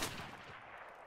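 Single sharp gunshot in Modern Warfare Remastered sniper free-for-all on a beach map, a loud opening crack followed by a broad, fading rumble of echo.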